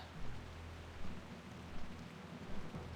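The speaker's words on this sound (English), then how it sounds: "I could listen to World of Warcraft rain ASMR all day." Steady rain falling in a World of Warcraft zone, a soft continuous hiss with low rumble, fairly quiet and unbroken, with no voices over it.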